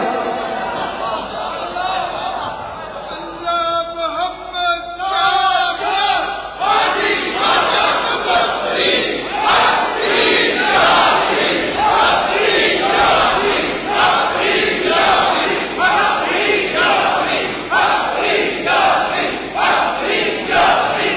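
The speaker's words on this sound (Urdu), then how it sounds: "داتا کی بارگاہ میں بابا کے نعرے لگ رہے ہیں" A large crowd at the Data Darbar shrine chants religious slogans for Baba in loud, rhythmic unison, with repeated call-and-response bursts rising after a scattered, murmuring start.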